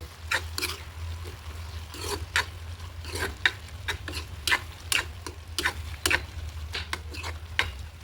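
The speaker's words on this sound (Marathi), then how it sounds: "आपण मस्तपैकी कोलंबी त्यात परतवून घेऊया" Prawns sautéed with chilli powder in a pan, a low continuous sizzle overlaid with regular, sharp scraping strokes of a spatula stirring them at a quick, even rhythm, with nobody speaking.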